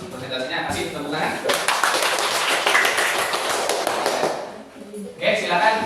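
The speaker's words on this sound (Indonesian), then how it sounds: "Kasih tepuk tangan" Classroom applause after a student group presentation, a dense patter of many hands clapping for several seconds that fades out, with voices chatting before and after.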